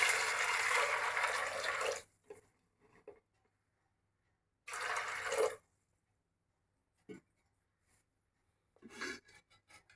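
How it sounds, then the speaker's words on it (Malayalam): Water poured over puttu kadala chickpeas in a pressure cooker: two bursts of rushing, splashing pour, the first about two seconds long and the second shorter, separated by soft clinks and handling noises. "ഇതിനകത്ത് ആവശ്യത്തിന് വെള്ളം ഒഴിക്കാം."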